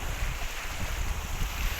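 A boat moves across the water at the Kechela picnic spot in Koraput, heard as a steady rush of wind and water over a low rumble, with no voices.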